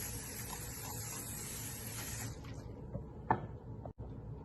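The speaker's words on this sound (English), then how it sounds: "For air frying the cutlets, we will first spray it with oil." Cooking oil is sprayed onto sago tapioca pearl cutlets with vegetables before air frying: a steady close hiss for about two seconds, then it stops, followed by a small click and a soft knock.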